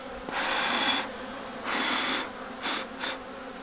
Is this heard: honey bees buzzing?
yes